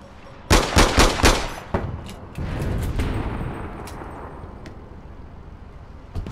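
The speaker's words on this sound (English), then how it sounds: "Shooting past my head." Gunfire in the online shooter APB Reloaded: a quick string of four sharp, loud shots, then a lone crack and a lingering rumbling wash with a few faint distant pops.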